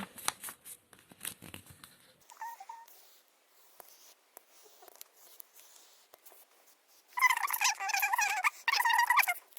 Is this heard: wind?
no